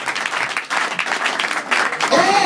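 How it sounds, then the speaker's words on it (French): A church congregation applauding, a steady loud clapping that fills the whole stretch, with a voice joining in near the end. "Est-ce qu'il y a quelqu'un qui peut acclamer pour la gloire de Dieu?"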